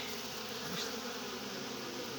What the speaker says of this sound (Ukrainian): О, дивіться, який шершень.